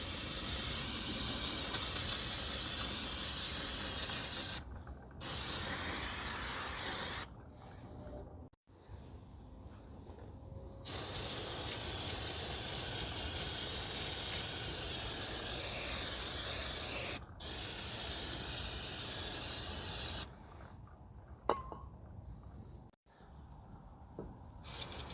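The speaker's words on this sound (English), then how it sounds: "So now we're just going to clean everything down with some brake cleaner." Brake cleaner hisses from an aerosol can onto the brakes of a 2024 Honda Accord Hybrid 2.0, in long steady bursts with brief gaps, close and loud, with no talking.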